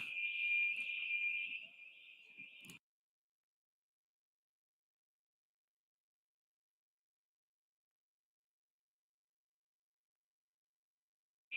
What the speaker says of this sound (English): just whilst that car alarm gets sorted, because it's very loud